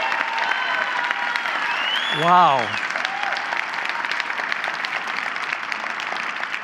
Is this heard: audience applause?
yes